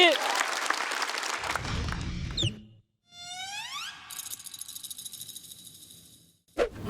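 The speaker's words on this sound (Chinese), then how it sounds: "掌声有请林简七" A studio audience at a stand-up comedy show applauds loudly and densely for a couple of seconds, then the clapping gives way to rising electronic musical sweeps and a brief closing burst.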